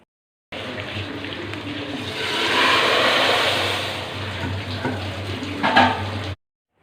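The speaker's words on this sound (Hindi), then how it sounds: "जल्दी से इसको तड़का लगा देते हैं।" Hot tadka tempering poured onto cooked chana dal, a loud broad sizzle that swells in the middle and then settles into steady frying crackle, close up with no talking.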